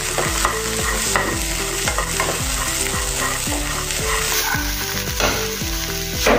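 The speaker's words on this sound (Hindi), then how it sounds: "अभी हम तुअर की फली और हरी मिर्च को भूनेंगे।" Pigeon pea pods and green chilies frying in a pan, a steady loud sizzle broken by repeated scraping stirs of a spatula, with no voices.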